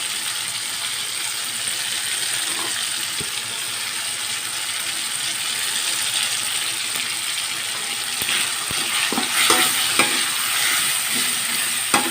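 Steady sizzling and scraping of chili being stir-fried in a hot pan, with occasional clinks of a utensil against the metal; no talking.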